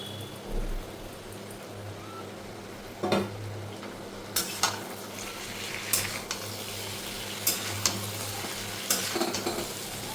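Jackfruit and potato fry in a wok over a low, steady sizzle while a spatula stirs them, with occasional sharp metal scrapes and knocks spaced a second or two apart.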